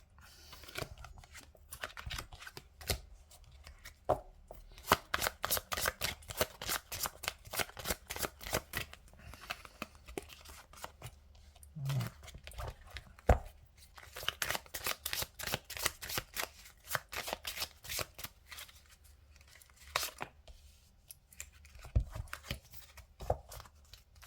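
Tarot cards are shuffled by hand in a long, quick run of crisp riffling flicks, with occasional brief pauses between bursts, close and fairly faint, with no one speaking.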